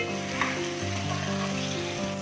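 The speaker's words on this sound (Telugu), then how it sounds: "ఇప్పుడు దీంట్లో మనం కడిగి పెట్టుకున్నటువంటి ములక్కాడ ముక్కల్ని యాడ్ చేసుకుంటున్నామండి" Drumstick pieces go into a sizzling dry prawn curry, a steady close frying hiss with a brief sharper crackle as they land, no talk over it.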